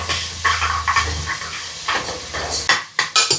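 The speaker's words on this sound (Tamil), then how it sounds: "லைட்டாக கொழுப்பை வதக்கி விட்டுட்டு" Mutton fat sautés with whole spices in hot oil for a mutton kulambu, a soft sizzle under clinking spoon-on-pan stirring, with several sharp scraping knocks near the end.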